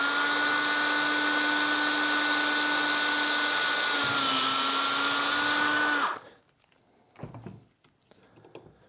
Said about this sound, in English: we'll want to drill all the way through the piece of pipe